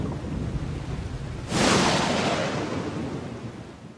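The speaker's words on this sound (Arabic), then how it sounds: "نحن نتوقع أن تضربنا عاصفة رعدية، ويبدو أنه سيصاحبها المطر كذلك" Thunder rumbles over steady rain during a thunderstorm at sea aboard a sailing ship, a loud broad roll swelling at mid-clip and slowly fading beneath the continuous hiss of rainfall.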